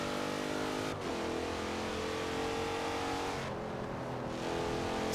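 A Dodge Durango SRT in Forza Horizon 4 revs close and loud, its engine note holding steady and then climbing and dropping in pitch twice, with no talking.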